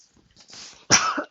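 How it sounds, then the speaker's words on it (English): A single close, harsh cough, preceded by a short breathy throat sound. "Excuse me for my cough."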